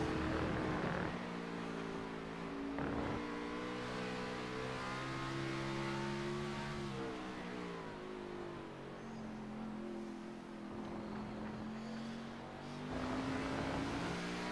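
Race car engine from a racing video game at Road America, sustained and loud, with harmonic engine tones rising and falling through gear changes across the run; no talking.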